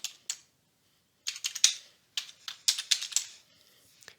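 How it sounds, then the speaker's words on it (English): Typing a name on a computer keyboard: a few isolated key taps, then quick clusters of light clicking, close and quiet, with no talking. "you can scroll down and just type in your name."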